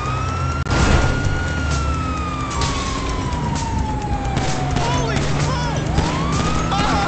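A police siren in GTA 5 wails, sweeping slowly downward and back up over engine rumble and road noise, loud and close, with game vehicle sounds around it.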